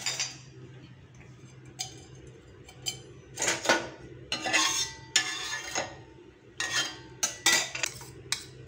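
An egg is poured and spread in a pan for a second omelette, heard as a run of sharp metallic scrapes and clinks of a utensil against the pan over a faint background hum, with no speech.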